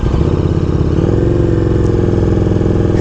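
A motorcycle runs on a rural road in Northern California, its engine a loud, steady, close drone with a throbbing low rumble and no talking over it.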